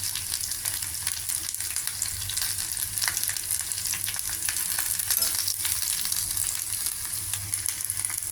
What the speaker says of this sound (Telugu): పచ్చిమిరపకాయలు ఇలా వేయించుకుంటే బాగుంటుంది. ఇట్లా వేడి వేడి నూనెలో బాగుంటాయి.